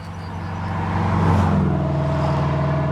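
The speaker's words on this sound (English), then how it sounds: "Sorry about the noise for all the cars passing by." Road traffic rumbles steadily, with a vehicle swelling louder as it passes close by, its engine drone lingering afterward.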